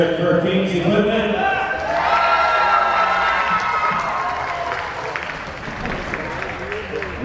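A crowd cheers and applauds at a tug of war contest between Martock and King's Equipment, loud, dense clapping and shouts with voices mixed in, fading slightly toward the end.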